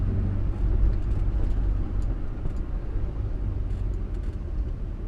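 A 1962 Morris Minor driving, heard from inside as a steady low engine and road rumble that continues throughout, with no talk.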